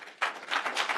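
Audience at a city council meeting breaks into a short burst of clapping after a quiet moment, several hands applauding at moderate distance for about a second.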